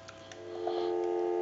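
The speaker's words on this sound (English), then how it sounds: "So we'll turn our amplifier on and give you some dial tone." A steady telephone dial tone fed through an amplifier on a converted Mickey Mouse telephone, a continuous even hum that rises slightly and then holds at moderate level, with faint clicks near the start.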